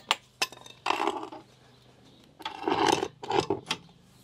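A bolt on a Rapido 9090f A-class motorhome's corner steady is tightened with hand tools, making rasping, ratcheting metallic strokes in two separate bursts with a short pause between them.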